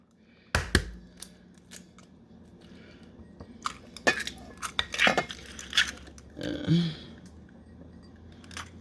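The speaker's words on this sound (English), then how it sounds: "I'm going to crack 1 egg in the bowl" An egg cracked into a clear bowl: a sharp crack near the start, then small clinks and shell-handling taps, with someone speaking in between.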